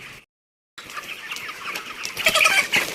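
A flock of 45-day-old chickens clucks inside a poultry house, overlapping soft clucks and chatter close by after a brief silent gap, growing livelier with sharper calls toward the end.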